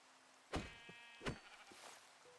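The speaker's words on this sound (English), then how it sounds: "Oh, a lot of white sheep." White sheep bleating in the Minecraft video game, two clear bleats about a second apart over a quiet background, with fainter game sounds after.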